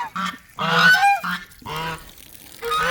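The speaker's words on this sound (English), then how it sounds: "the geese love playing in the water" Several loud, nasal goose honks in quick, irregular bursts, close by, from geese playing in water on a cold day, with short pauses between calls.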